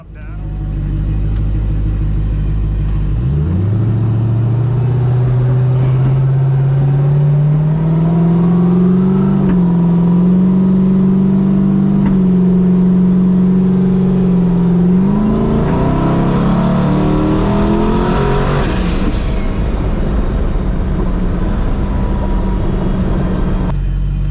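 A turbocharged LS-engined race car on a public street, idling and then given short blips before a long rising rev that climbs and drops off, loud and close, with a voice talking over it.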